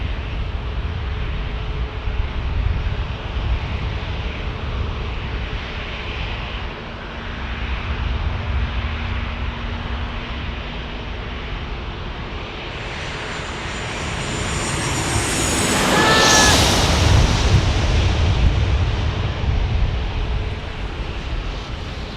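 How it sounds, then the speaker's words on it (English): An Alaska Airlines jet at San Diego airport makes a continuous engine roar that swells to a loud, close whoosh as it passes, then recedes over a steady background rumble, with no speech. "Here comes Alaska Airlines"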